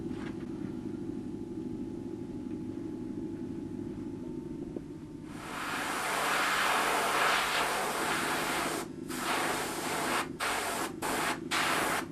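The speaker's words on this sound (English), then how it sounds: "I'm now going to load the airbrush to get an initial spray on the figure." An airbrush sprays paint onto a model figure: a faint hiss first, then a loud, steady airy spray that stops and restarts several times in short bursts near the end.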